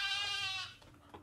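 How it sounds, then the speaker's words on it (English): A sheep bleats in a wavering, nasal cry in an animated film scene, loud and close for most of the moment before trailing off into quieter background sound. "A sheep!"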